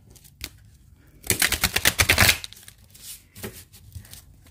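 Tarot card deck being shuffled by hand: a brief flutter of riffled cards, then a louder rapid burst of crisp card snaps, followed by a few softer taps, close up with no talking.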